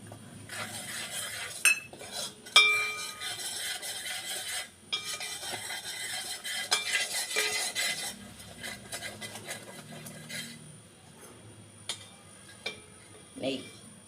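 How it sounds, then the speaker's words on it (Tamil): Gram flour being stirred into one-string-consistency sugar syrup in a pan over a low flame, with steady close scraping and swishing strokes, occasional metal clinks of the spoon against the pan, and a faint sizzle underneath; no talking. "இப்போ அடுப்பை சிம் பண்ணிவிட்டு கடலை மாவு அதில் விடணும்."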